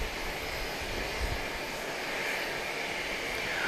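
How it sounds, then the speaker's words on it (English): An American Airlines jet, flight 350 from Charlotte, arrives at Grand Cayman airport as seen from an observation deck, its engine roar a loud, steady broadband rumble that carries on throughout with no talk. "we have just seen arriving American Flight 350 from Charlotte"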